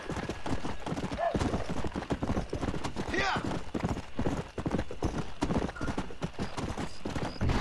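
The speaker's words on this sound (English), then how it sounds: "I could just jump off the moving horse" Horse hooves galloping in the Red Dead Redemption video game on Xbox One, a loud, fast, continuous clip-clop rhythm with a brief whinny partway through and a voice talking over it.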